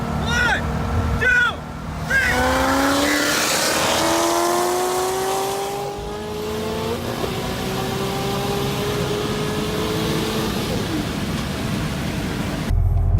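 A Corvette ZR1 launches and accelerates hard, its engine note climbing steeply through gears with a loud rising drone after a short idle. People talk briefly near the start.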